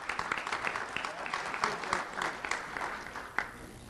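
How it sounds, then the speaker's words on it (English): A school audience applauds at a Tortuga Preserve Elementary award presentation. The clapping is steady and moderately loud throughout, with no talk over it. "Let's have a round of applause for Tortuga Preserve Elementary."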